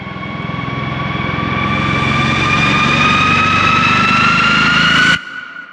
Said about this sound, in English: I'll download those Riser sound effects now.